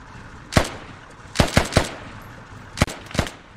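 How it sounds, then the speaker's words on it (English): Video game gunfire, five sharp close shots in irregular bursts, a single crack then a quick triple and a later pair, over a quiet background. "Jake Carranza Jones takes some shots at some pursuers."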